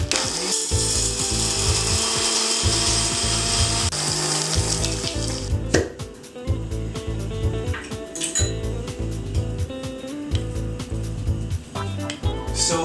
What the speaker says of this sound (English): So close it and give it a nice grind.